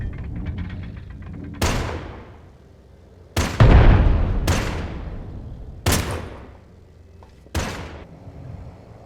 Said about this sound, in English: shooting the cannon at him, bruh